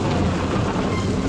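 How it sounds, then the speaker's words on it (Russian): Thunder and rain in a children's audio fairy tale: a dense, loud rumble and hiss of downpour rolls continuously through the short moment without pause. "мгновенно затянулось тучами и тоже погрозило громом и молниями"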